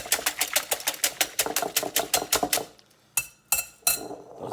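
Eggs whisked hard in a bowl until frothy for an omelette, giving a fast, steady run of sharp clinking strokes that breaks into a few separate louder taps near the end.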